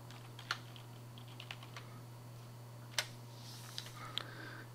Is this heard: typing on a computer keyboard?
yes